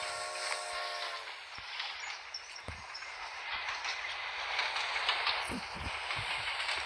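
Train approaching, heard as a steady broadband rumble and hiss with a tonal whistle-like hum at the start, scattered knocks and clanks throughout, moderately loud and sustained.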